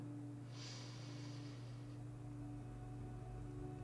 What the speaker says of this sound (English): three big deep breaths going in through the nose and out through the mouth